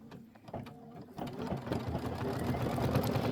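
An embroidery machine stitching around a chenille pineapple on a quilt block starts up after a quiet moment, then hums and chatters in a steady fast rhythm, close and loud.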